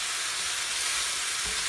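Pork steak browning in a hot cast iron pot gives a steady, loud broadband sizzle and frying hiss, continuous and close, with no talk over it.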